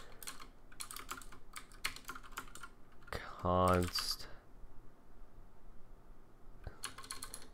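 Fingers tapping a computer keyboard in bursts of quick keystrokes, with pauses and a louder electronic tone in the middle; someone speaks briefly.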